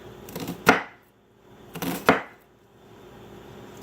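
A knife chops through food for chicken soup on a cutting board in two separate strokes, each a sharp close thud with a brief crunch, separated by a short pause.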